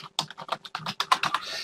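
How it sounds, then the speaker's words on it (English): Someone types on a computer keyboard with a quick, close run of crisp key clicks in an uneven rhythm, heard clearly with no talking. "So I'm going to type in here,"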